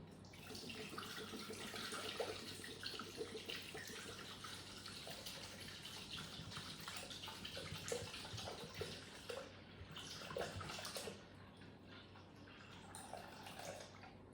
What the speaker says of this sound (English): we're going to place 900 grams of water